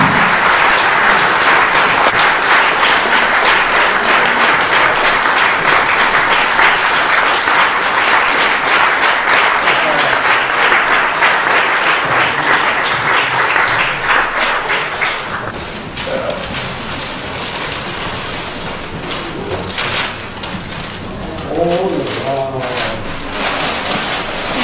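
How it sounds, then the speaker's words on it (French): Sustained standing ovation from a large audience, loud and dense clapping rolling on for about fifteen seconds, then thinning and dropping back as voices and scattered claps take over. "qu'elle se mette debout et qu'elle applaudisse"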